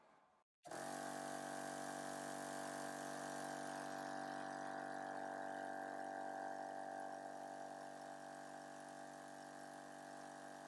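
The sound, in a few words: 12V air compressor running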